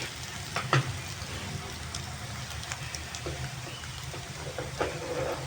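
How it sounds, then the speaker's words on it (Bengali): Potatoes fry in a pan for a drumstick-flower dish, giving a steady close sizzle with a few louder pops and stirring clicks throughout. "আমার আলুটা ভাজা ভাজা হয়ে গেছে"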